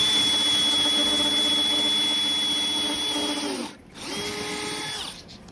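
A power drill bores with a Spectral non-step drill bit, giving a steady high whine that dips and cuts out briefly, then spins up again before stopping.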